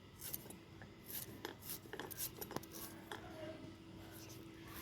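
A knife slicing fresh ginger into thin pieces on a board, faint close scraping and cutting strokes in an irregular rhythm, quiet and without talk.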